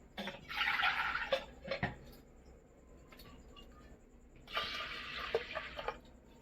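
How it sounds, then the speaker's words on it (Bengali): Water poured into washed masoor dal in a pressure cooker, in two close splashing bursts separated by a quiet pause with faint kitchen noise. "আমি কিছুটা জল দিয়ে দিলাম"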